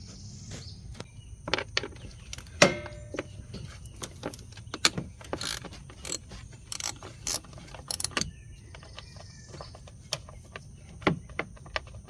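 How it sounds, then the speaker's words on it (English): Hand tools removing an 8mm bolt from a 2009-2014 Ford F-150 3.7L engine, heard as scattered faint metallic clicks and ratchet ticks over a quiet background with a steady high hum. "And also removing this 8mm bolt."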